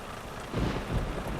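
In the Euro Truck Simulator 2 video game, rain patters steadily while a low thunder rumble swells briefly near the end, heard from a truck with its window open.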